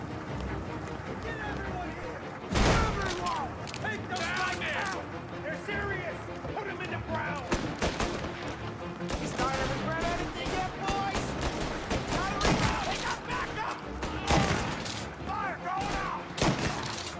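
Shotgun fire in Mafia: Definitive Edition: a handful of loud, punchy blasts spaced several seconds apart, set against busy game noise, with someone talking over much of it.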